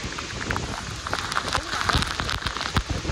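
Heavy storm rain pours down on the Devkund waterfall trek, with gusts of wind. The downpour makes a loud, continuous crackling wash, and sharp drops spatter close by.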